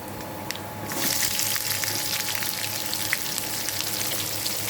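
Chopped onions are dropped into hot oil for pappu chaaru and begin a loud, continuous frying hiss that swells after a brief quieter start and stays steady throughout.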